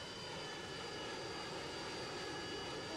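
A helicopter in the Roblox game Vehicle Simulator drones with a constant, even engine roar throughout, steady and unbroken with no talk over it.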